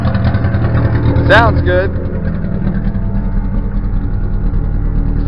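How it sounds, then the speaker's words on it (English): Car engine running at a steady idle after repair, a continuous low rumble throughout with someone speaking briefly over it. "Okay, it runs. It idles."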